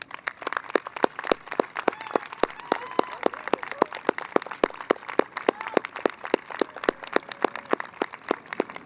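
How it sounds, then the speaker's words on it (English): Audience at a Chicago Jesuit Academy graduation ceremony applauds departing teachers and staff: steady, fairly sparse claps with distinct sharp hits, continuing evenly for several seconds. "joining me in offering them a round of applause"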